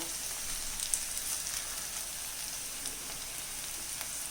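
Onions fry for Chinese potato (koorka) upperi, a steady soft sizzle with faint crackles running evenly and quietly throughout, no talking.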